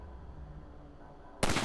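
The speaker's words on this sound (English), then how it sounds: "I might be a little rusty with this rifle." A rifle shot in the Half-Life 2: Episode 1 video game cracks loud and sudden near the end, breaking over a low ambient game hum.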